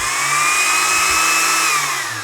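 A small high-RPM cutting tool motor spins alone, a loud steady whine with a slight pitch rise and fall, tapering off at the end.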